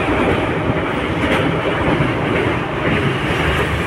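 Interior of a moving train, a loud steady rumble and rattle of the carriage with faint rhythmic wheel clatter, continuous throughout and without any talking.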